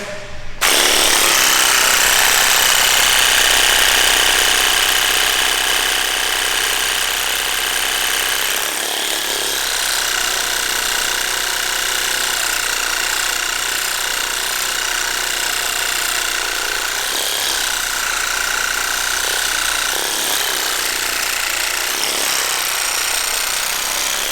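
A massage gun hammers against the quads in a loud, continuous buzzing percussion up close. It starts abruptly and holds steady for the whole stretch with no talk over it.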